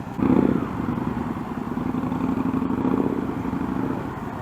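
A motorcycle ridden slowly during one-on-one rider training, its low engine rumble steady and fairly close, with a slight clatter throughout and no talk.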